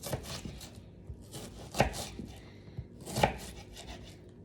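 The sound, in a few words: chopping an onion with a knife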